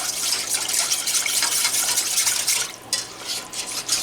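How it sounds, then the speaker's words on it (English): Milk and half-and-half are whisked smooth in a pan over medium heat, a continuous close, wet swishing and sloshing without any talk. "we're going to whisk it until it's all smooth."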